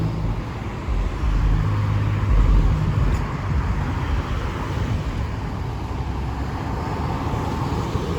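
Road traffic hums steadily with many cars passing, a continuous broadband roar of tires and engines with no distinct single pass-by and no voices.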